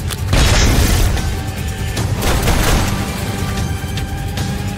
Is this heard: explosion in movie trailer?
yes